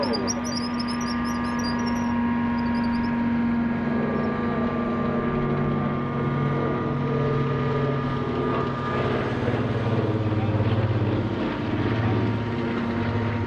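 A Curtiss C-46 Commando transport aircraft drones steadily with a sustained propeller and piston-engine hum at a World War II weekend event, the tone holding level and moderately loud, with a voice speaking faintly beneath it.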